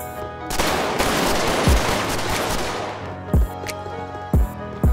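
Rapid gunfire from a GTA 5 shootout rings out loud and near as a dense sustained burst, then trails off into a few separate heavy single shots toward the end.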